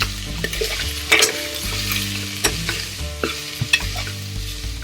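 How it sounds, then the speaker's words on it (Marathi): Dal and other soup ingredients sauté in a hot pan on a gas stove, a steady sizzling frying sound with repeated scraping stirs of a spoon, no one speaking. "छान परतायचं, म्हणजे काय त्याला स्मोकी फ्लेवर येतो चांगला।"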